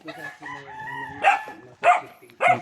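Close rooster crowing in a drawn-out call, followed by three short, sharp squawking bursts at regular intervals.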